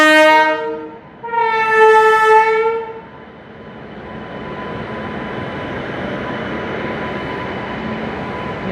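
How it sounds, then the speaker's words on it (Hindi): Passenger train running from Raipur to Bilaspur as it enters a railway station: two loud, close horn blasts, then a steady rumble and clatter of wheels on rails that keeps building. "पैरेलली स्टेशन में एंट्री ले रही है रायपुर से चल के बिलासपुर जाने वाली पैसेंजर ट्रेन"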